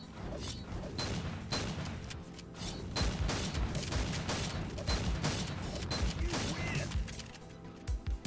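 Gunfire in the Korean third-person shooter Guns the Duel: dense, loud volleys of rapid shots and impacts packed together without pause, with mechanical clicks mixed in.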